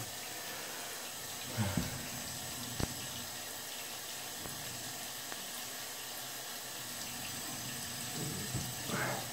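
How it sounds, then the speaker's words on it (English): Water runs from a tap into a sink in a home bathroom before a straight-razor shave, a steady broadband rush with a few small knocks and splashes, moderately close and alone. "So I got the water running in the background."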